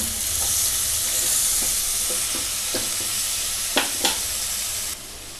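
Mutton mixed with a tablespoon of red chilli powder in a pressure cooker pan for Guntur gongura mutton, a loud continuous sizzle with soft stirring scrapes and a couple of sharper knocks.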